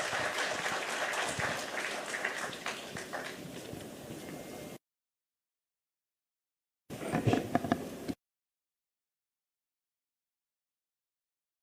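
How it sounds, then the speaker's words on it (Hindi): Audience at a government energy department event applauds to welcome an official: several seconds of dense clapping that thins out, then a short burst of applause after a gap of silence. "जोरदार ताली से स्वागत करेंगे"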